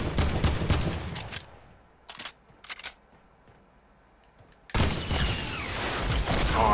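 Fortnite gunfire, with a rapid burst of shots up front, a few isolated cracks in the middle and then a loud sustained volley near the end.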